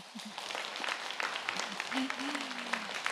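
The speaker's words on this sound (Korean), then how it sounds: "박수 한번 쳐주세요" An audience at a book concert claps steadily in a room for a few seconds while a voice speaks over the applause.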